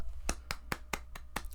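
A lone person claps slowly and steadily on a podcast, about seven sharp, evenly spaced hand claps over a faint low hum, close and fairly quiet, with no talking.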